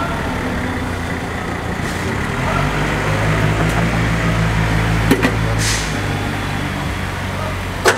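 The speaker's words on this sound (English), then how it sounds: "So now guys, I will crank the generator." A 1000 kVA diesel generator engine cranks and settles into a loud, steady low rumble with a constant mechanical hum, heard close up throughout.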